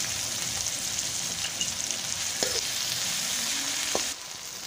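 Chopped onions sizzle steadily in a pan with a little salt added, a continuous close frying hiss with a few soft clinks of stirring.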